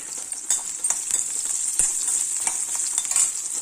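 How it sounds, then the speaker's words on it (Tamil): Onions and garlic sizzling steadily in a hot pan with occasional stirring scrapes and clinks, an even frying hiss throughout. "வெங்காயமும் வெள்ளைப்பூடும் கொஞ்சம் வதங்கிச்சு"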